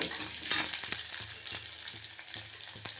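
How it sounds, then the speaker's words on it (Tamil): Onions sautéing in a pan for a kulambu, a soft continuous sizzle with regular spatula strokes scraping roughly every half second, close but fairly quiet. "வதக்கணும். கொஞ்சம் வதங்கட்டும். வெங்காயம் வதங்கிடுச்சு."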